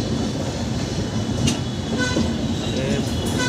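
An express train at Danapur railway station in Patna gives a loud, steady rumble and rail clatter with faint squeals, and voices murmur in the background.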